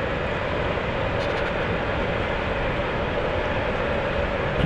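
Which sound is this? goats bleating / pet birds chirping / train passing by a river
train passing by a river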